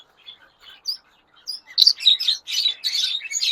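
A breeding pair of ringneck parakeets chirps in a run of sharp, high tweets, sparse at first and then rapid and loud, close by with no talking.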